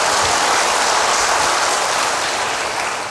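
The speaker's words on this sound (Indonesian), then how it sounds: "Yang percaya berikan tepuk tangan bagi Tuhan." Dense, loud applause from a church congregation, a continuous roar of clapping that holds steady throughout and eases slightly at the end.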